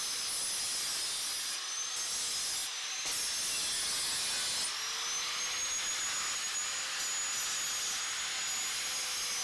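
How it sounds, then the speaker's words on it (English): Sharp edges are sanded off sheared steel triangles, a loud, continuous abrasive whine and hiss that runs almost unbroken, with a couple of brief dips and a shifting tone. "The first thing we'll do is we'll sand off all the sharp edges."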